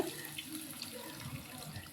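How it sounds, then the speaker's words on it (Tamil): Tamarind water being poured into a pot of curry, a steady close liquid stream splashing softly for a couple of seconds, with no talking. "இப்போது மசாலாலேருந்து எண்ணெய் பிரிஞ்சு வந்ததும் நம்ம கரைச்சி வச்சுருக்கிற புளி தண்ணியை சேர்த்துக்கலாங்க"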